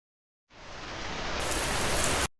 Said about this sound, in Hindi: या हो तेज बारिश की बौछार